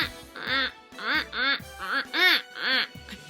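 A theatrical duck quacks seven times in quick, bouncing succession, loud and close, each call a short nasal burst with tiny gaps between, apparently a performer's voice imitating the bird.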